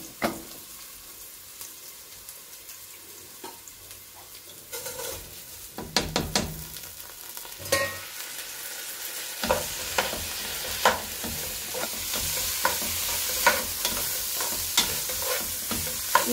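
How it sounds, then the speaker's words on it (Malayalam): Washed rice fries in cow ghee with a piece of cinnamon and a black cardamom, for a fish biryani. A continuous sizzle grows steadily louder, broken by intermittent clanks and scrapes of a spoon stirring against the pot. "ഈ അരി ഒന്ന് വറഞ്ഞ് വെക്കട്ടെ."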